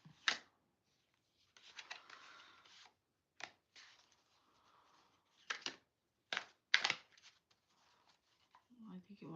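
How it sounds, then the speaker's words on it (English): Cards riffle and shuffle in several short, crisp bursts between quiet gaps during a live card reading, close and moderately loud, with a voice speaking softly in between. "I think it wants me to shuffle again"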